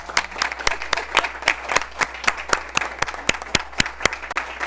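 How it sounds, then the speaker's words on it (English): Applause breaks out at a Board of Education meeting, steady rapid hand claps from a modest crowd, moderately loud and continuous without speech. "one more round of applause for John"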